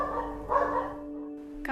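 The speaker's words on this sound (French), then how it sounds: "Les bruits d'aboiement des chiens percent mes oreilles." One short dog bark rises at moderate volume near the middle, over a steady low hum with a faint click at the end.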